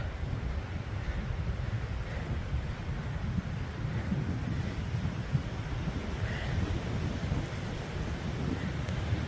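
Wind buffets the microphone in a constant low rumbling roar that continues without a break throughout, on an open hill trail in the Clwydian Range, Wales.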